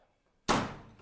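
A tumble dryer door pushed shut with a single loud thunk, close by, after near silence, its impact ringing and fading out over the following half second.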